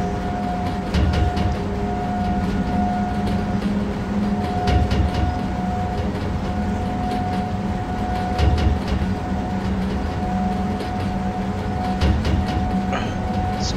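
A PKP Cargo ET-25 Dragon electric locomotive in the SimRail game hauls along the line from Sosnowiec Dańdówka to Olkusz, a steady cab rumble with a sustained tonal hum and recurring rhythmic rail clicks throughout.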